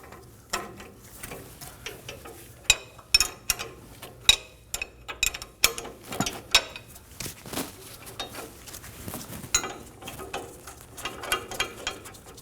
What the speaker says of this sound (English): For the top nut, we're going to use a 17mm wrench